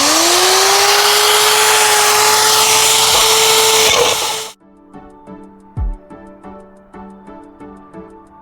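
A power tool screams loudly as it cuts holes in an aerator cabinet, a steady high-pitched whine for several seconds before stopping abruptly, followed by a series of light knocks and taps.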